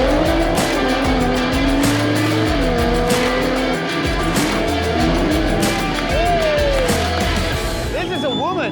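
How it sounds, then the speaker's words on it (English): A Nissan GT-R R35 pulls up amid a loud car meet, its engine and exhaust roaring over dense crowd chatter and other revving cars, with tire squeals rising near the end. "Got another R35 pulling up."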